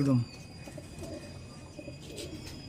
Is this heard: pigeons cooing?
yes